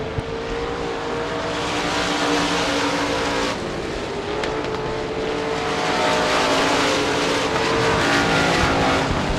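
USA Limited Modified race cars roaring around Devils Bowl Speedway, one V8 among them, loud dense engine drone with rising and falling revs as the cars pass, continuous and close throughout.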